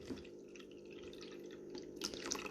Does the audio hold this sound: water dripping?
yes